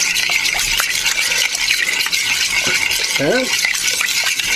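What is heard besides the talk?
stirring cheese into macaroni in a pot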